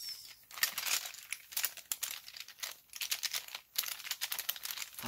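Crinkly rustling and small clicking handling noises from an old pencil case, close and quiet, coming in irregular bursts with brief pauses.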